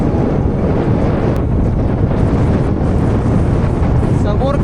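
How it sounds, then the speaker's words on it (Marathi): Strong wind buffeting a microphone on a mountain at Duke's Nose, a loud continuous roar filling the whole stretch with no pause. "मी जिथे बसलो आहे तिथे खूप वारा आहे, प्रचंड वारा आहे"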